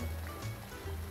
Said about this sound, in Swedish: Och här kokar ju vatten.